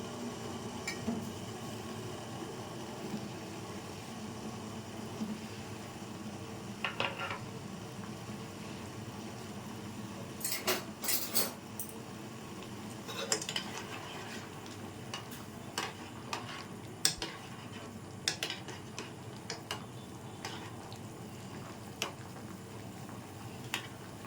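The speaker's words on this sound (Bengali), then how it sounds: "শিরাটা ফুটতে শুরু করেছে, এবার গোলাপ জামুনগুলো দিয়ে দিচ্ছি।" Gulab jamun dropped into boiling sugar syrup in a pan on the stove, a quiet steady bubbling simmer broken by a few sharp clinks and light scraping of a utensil against the pan.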